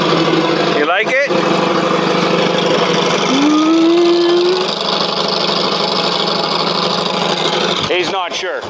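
A 1952 John Deere tractor engine runs steadily nearby with a rhythmic, throbbing idle that continues from start to finish, joined by a brief rising whistle-like tone and some short bursts of sound.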